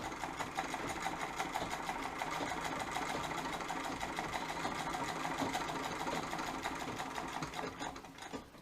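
A Singer 66 treadle sewing machine stitches fabric at a 1/4 inch seam with a steady rapid mechanical clatter, moderately close and continuous, slowing slightly at the very end.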